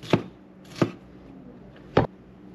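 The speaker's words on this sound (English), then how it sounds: "I'm going to cut them in half again, and then I'm just going to chop them." A knife chops through fish or vegetables on a cutting board in a home kitchen, three sharp, separate thuds with uneven gaps, close and clear with no talk.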